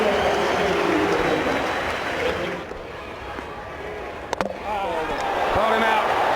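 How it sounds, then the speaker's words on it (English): A cricket crowd in a stadium sends up a broad, steady roar of applause for Sachin Tendulkar, loud and continuous, dipping briefly midway before swelling again. A commentator's voice sits underneath. "Sachin Tendulkar takes the applause graciously."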